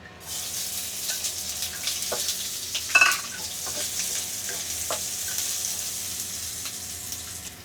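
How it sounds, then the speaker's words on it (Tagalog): Garlic and onion sautéing in a pan as the base for a Thai-style chicken curry, a steady close sizzle with intermittent stirring scrapes and one louder clatter partway through, no voice heard. "isutin mo na siya sa bawang at saka sibuyas"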